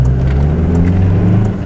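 Remapped Toyota Hilux GD with a rebuilt rear suspension, accelerating on a test drive, its engine droning loud and steady from inside the cab with a deep, even hum.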